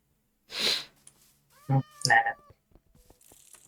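A Minecraft cat gives two short harmonic meows, the second drawn out, close and fairly loud, after a burst of voice and among soft game noises.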